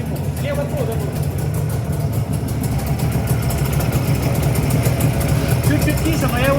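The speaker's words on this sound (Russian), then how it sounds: "Ну, двигатель, он у нас, как правильно объяснить, шум распространяется по всему." A Jawa 350 motorcycle engine runs at a steady idle with a strange extra noise, a continuous near mechanical drone with people talking over it.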